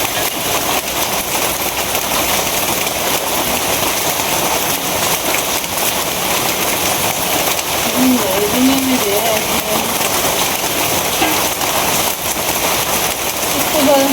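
Steady rain falling, a constant broadband hiss of drops on surfaces, loud and close, with someone talking over it and a few faint tonal sounds partway through.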